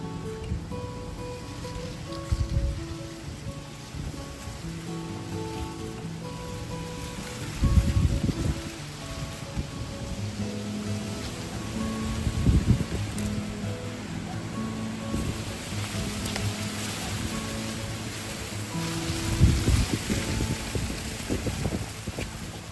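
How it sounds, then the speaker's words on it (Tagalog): Strong wind blows steadily outdoors in Canada, with gusty surges of roaring noise rising and falling over more than twenty seconds. "Lakas ng hangin."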